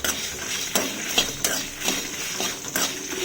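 Coriander seeds, dried red chillies and cumin being dry-roasted and stirred in a pan for a masala, with a soft continuous rustle and periodic scraping strokes of the spoon, close up.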